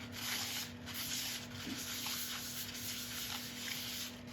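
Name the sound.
light wipe over a finished chestnut burl wood surface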